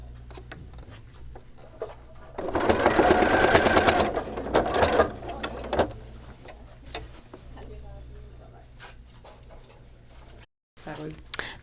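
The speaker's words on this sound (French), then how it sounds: "comme on coud un cercle, j'ai pas besoin de faire d'avance-recul" A sewing machine stitches around the circular seam of a doubled fleece toque in one brief whirring burst of about two seconds, close by, while someone talks in French before and after.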